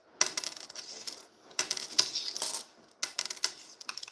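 Pennies dropped one after another onto a hard surface for sorting copper from zinc, each landing with a bright metallic ting and short bouncing rattle, several distinct drops in quick succession, close up and without talk.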